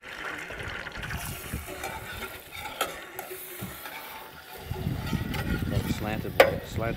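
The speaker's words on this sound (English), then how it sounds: "They were frying up some redfish." Redfish fillets sizzling and frying in butter in a pan, with stirring and scraping noises; a voice speaks over it, the sizzle growing louder near the end.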